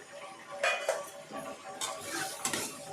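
Cashews stirred and tossed in a metal pan while cooking paneer butter masala, giving light scraping and clinking of a spoon against the pan in short irregular bursts, close by with a faint sizzle underneath.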